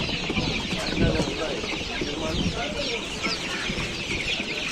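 Domestic chickens, young birds about two and a half to three months old, cluck steadily at a busy poultry market in Bishkek, their calls layered over crowd murmur.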